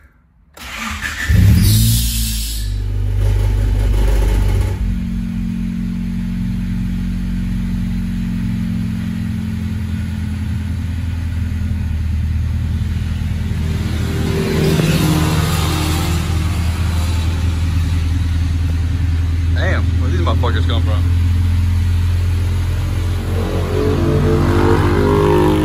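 A 1995 Honda Civic engine with an exhaust leak cranks and catches, then idles with a steady, rough, throaty rumble that swells briefly partway through.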